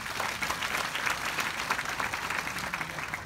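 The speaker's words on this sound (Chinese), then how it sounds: "我们再给他们一个掌声" An audience at a corporate company event claps together in a dense, steady roar of applause, sustained and even throughout the stretch.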